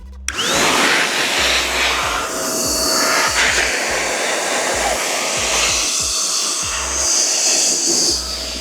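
A hair-dryer-style blower runs steadily and close up for several seconds, drying a car headlight before it is polished, with a continuous whooshing roar and no talk.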